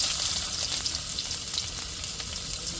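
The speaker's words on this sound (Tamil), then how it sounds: "இப்போ அப்படியே வெங்காயத்தை சேர்த்துருவோம்" Onions hit hot oil with fennel seeds, giving a bright, crackling sizzle that opens loud and settles into a steady fry, close up with faint stirring and no speech.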